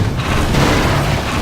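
An RPG rocket explosion in Half-Life 2 Deathmatch lands as one loud, dense, low boom that rumbles for a moment and fills the whole short burst.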